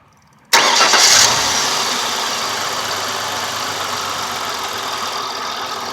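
After a brief quiet moment, a hot engine fitted with a preoiler cranks and fires abruptly, revs briefly, then settles into a steady, loud idle.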